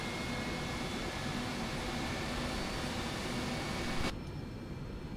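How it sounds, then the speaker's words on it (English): A FlyJSim 727-100 jet engine spools up in the X-Plane 10 flight simulator, a steady broadband roar and hiss that cuts off abruptly near the end, with no voices. "It sounds like a plane's pulling up to me, so I'm gonna give it some fuel."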